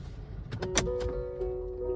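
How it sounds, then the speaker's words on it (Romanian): A short electronic start-up chime plays a few rising tones inside a Genesis car, followed by a sustained tone over faint background hum. "fiecare model Hyundai, Kia, Hyundai sau Genesis are propriul sunet de marcă de plecare"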